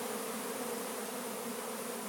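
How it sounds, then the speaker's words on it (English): Honey bees feeding on honey make a steady, dense buzzing drone, close and continuous, with no voices. "Bees are grabbing all this honey."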